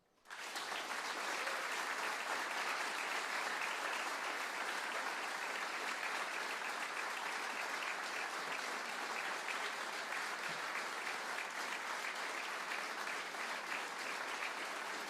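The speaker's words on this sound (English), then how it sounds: "the next thing you're going to do is applaud. I'm going to count to 3 and just normal applause." A studio audience at a live music show gives a normal round of applause on cue, a dense, steady wash of clapping that starts abruptly and holds at an even level for the whole stretch.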